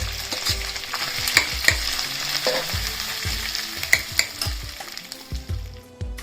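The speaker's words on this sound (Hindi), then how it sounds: "ये घी में आलू गए, अब इसे अच्छे से भून लेंगे।" Potatoes fry in ghee in a pan, giving a steady close sizzle broken by repeated sharp taps and scrapes as a spatula stirs them, with no talking.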